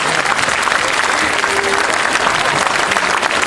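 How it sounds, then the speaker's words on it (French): Loud, dense applause from a crowd at a welcome evening event, a continuous wall of clapping for a guest named Cyril with no pauses, close and even from start to finish. "Eh bien, applaudissements pour Cyril"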